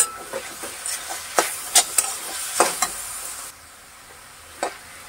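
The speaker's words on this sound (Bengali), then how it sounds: "এরপরে চিনিটাকে আমি মিশিয়ে নেব" A spoon stirs sugar into greens cooking in a pan, sending sharp scraping clicks over a constant low sizzle of frying, a few distinct strokes close by, with no talking.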